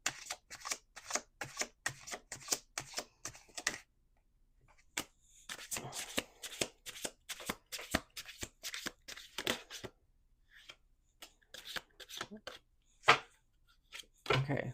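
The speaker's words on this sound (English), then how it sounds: "Okay, last shuffle." A deck of oracle cards being shuffled in repeated quick riffling bursts, close and crisp, pausing briefly midway before resuming, with a few separate taps and card snaps near the end.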